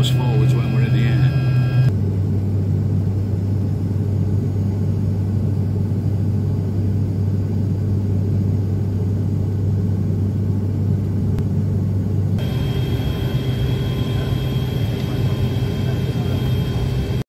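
Steady loud engine drone inside the cabin of a small propeller aeroplane, a low constant rumble that shifts pitch partway through, with voices talking over it.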